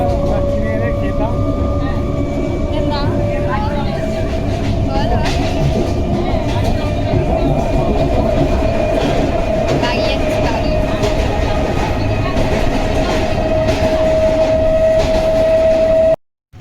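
A moving suburban train near Belur station in Kolkata rumbles and rattles loudly and continuously, with a steady hum and clacking under passengers' talk.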